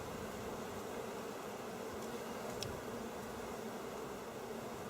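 Honey bees buzz around open hives during an inspection, a faint, steady, dense drone with no breaks, heard from nearby and alone.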